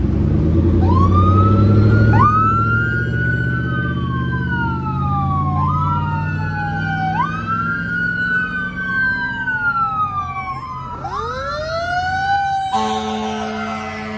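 A police car siren wails up and down loudly and close, rising and falling in repeated sweeps before switching to a faster yelp near the end, over road noise; no talking.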